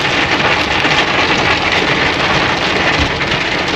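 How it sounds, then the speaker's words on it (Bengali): Heavy monsoon downpour drumming on a car during a road trip from Assam to Siliguri, a loud, dense and unbroken roar of rain heard close up with no voices. "ঝাঁপিয়ে বৃষ্টি বলো, মুসলধারে"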